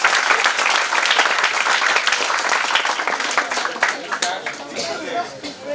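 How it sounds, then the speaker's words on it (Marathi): A hall audience at a junior hackathon prize ceremony keeps up sustained clapping, loud and dense at first and thinning out toward the end, with some chatter and voices mixed in. "टाळ्या वाजत राहायला पाहिजे."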